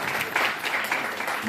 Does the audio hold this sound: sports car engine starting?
no